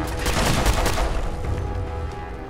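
Rapid turret gunfire in Fallout 4, a loud dense burst of shots clustered near the start, then thinning out into a fading rattle.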